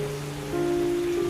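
Rain pours during a storm in a cartoon scene, a faint even hiss beneath humming sustained tones.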